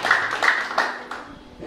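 A church congregation clapping in praise during a worship service, several short bursts of applause close together that fade after about a second, with a voice faintly underneath.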